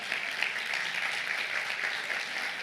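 An audience claps steadily for people born in Balneário Camboriú, a dense, even wash of applause that holds at a constant level throughout without a break.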